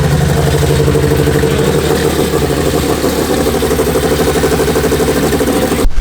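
A VW MK6 GTI engine catches quickly and settles into a loud, steady idle with an uneven, stumbling misfire pulsing through it, then cuts off sharply at the very end.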